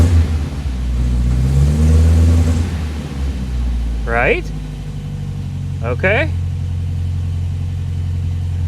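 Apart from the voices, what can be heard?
1975 MGB car pulling away in first gear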